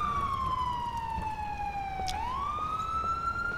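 Wailing ambulance siren from the video game GTA IV, a clear tone sliding slowly down, then quickly back up as it passes, heard alone over low background traffic rumble.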